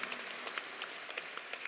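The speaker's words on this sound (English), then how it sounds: "Give him a nice, warm round of applause." Audience applause for the new Alabama A&M head football coach Sam Shade at his introduction, a dense crowd clapping with sharp individual claps standing out, fairly distant and steady.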